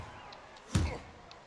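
An uppercut lands with a single dull, thudding impact in the boxing video game Fight Night Round 3, quiet and brief against faint background noise.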